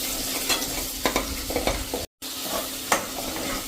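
Masala paste fries gently in oil over a low gas flame, a soft crackling sizzle punctuated by repeated spoon stirring clinks and scrapes, with a brief dropout midway and no voices.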